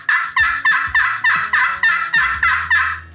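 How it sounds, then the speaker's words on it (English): A glass turkey call scraped with a cherry wood striker gives a steady run of about nine loud, rasping yelps in an even rhythm, close and alone. "Now let's listen to the cherry striker."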